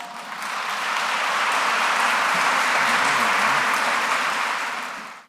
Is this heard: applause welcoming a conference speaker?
yes